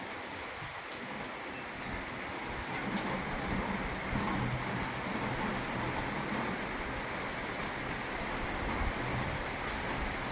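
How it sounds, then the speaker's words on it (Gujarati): Constant soft hiss of rain falling, broad and even throughout, with a low rumble underneath and no voices. "વરસાદ ચાલુ છે"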